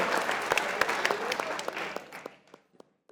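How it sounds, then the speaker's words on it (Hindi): An audience claps at a live talk show, steady applause thinning out toward the end into a few scattered, separate claps. "जो आप तालियां बजा रहे हो ना यूं करके"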